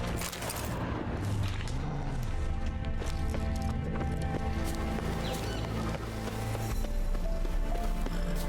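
Roach, the horse in The Witcher 3: Wild Hunt, gallops through Novigrad with a steady, rapid clip-clop of hooves that runs the whole time over continuous game music.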